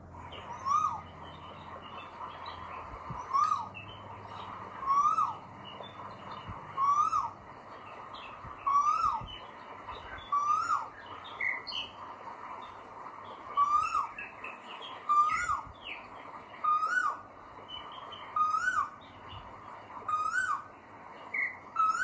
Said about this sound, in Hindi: तो आपने सुना ये कोयल की आवाज़ थी।